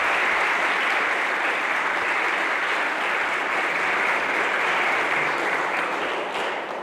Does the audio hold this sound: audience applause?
yes